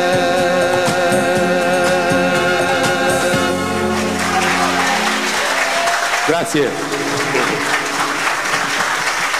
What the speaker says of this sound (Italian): prolungherei l'applauso per Franco